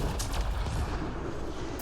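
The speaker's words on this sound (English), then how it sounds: "And an explosion." An explosion in the multiplayer mode of the video game Mass Effect Andromeda, a dense, rumbling low-end blast that holds steady for nearly two seconds with no voices over it.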